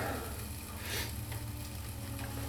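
Salmon cakes simmering and sizzling in a hot pan, a soft, steady frying hiss that continues without a break, close by and fairly quiet, with no voices.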